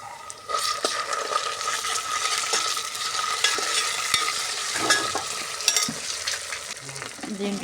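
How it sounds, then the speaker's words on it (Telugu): Ginger garlic paste masala frying in a pan for a chana dal curry, a steady close sizzle with intermittent stirring scrapes and light utensil knocks. "ఇదైతే అల్లం పేస్ట్ బాగా వేగిపోయింది"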